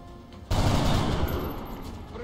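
Gunfire erupts in the turn-based strategy game XCOM Long War, a sudden loud burst after a quiet start that continues as a sustained roar of shots and slowly fades.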